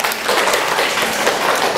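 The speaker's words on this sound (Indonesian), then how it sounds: "Tepuk tangan." Applause from a class at a lecturer's teaching exam session on orthotics and prosthetics, dense and steady for a couple of seconds.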